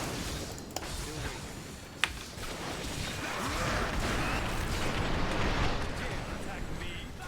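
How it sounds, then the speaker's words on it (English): Explosions going off in Diablo 3 Reaper of Souls hardcore wizard gameplay, a dense, continuous rumbling barrage with a couple of sharp cracks, loud and sustained throughout. "That's a lot of explosion death going off there"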